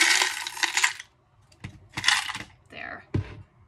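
Buttons cascade into a glass jar in a dense clattering rush, then a few smaller drops and clinks follow in separate bursts, close and fairly loud, with no talking over them.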